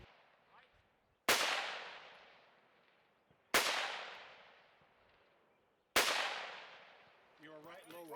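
Three sharp, loud gunshots spaced a couple of seconds apart, each ringing out into a long decaying echo, fired while shooting a practical shooting competition stage in the American Standard division; a voice speaks briefly at the end.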